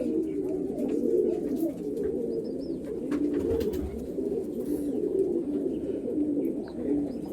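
Several pigeons, golden ice pigeons, coo continuously in low, throaty, overlapping rolls from a nearby loft, steady and close with no talk.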